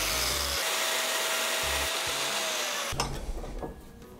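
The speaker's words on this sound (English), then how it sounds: "I'm just gonna cut off that little bit of metal poking out" A power tool grinds or cuts off a protruding bit of metal from a knife tang, a loud steady abrasive whine that stops abruptly near the end and leaves a few faint clatters.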